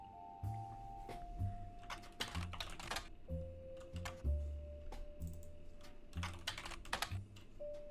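Rapid, irregular keystrokes on a computer keyboard, clattering in short bursts with brief pauses, close and fairly quiet.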